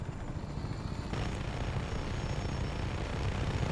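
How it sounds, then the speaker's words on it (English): In Just Cause 3, an Apache helicopter gives a steady, dense rotor and engine roar that holds at an even level throughout, with a slight lift in intensity partway through. "you can use an Apache helicopter to kind of free this town"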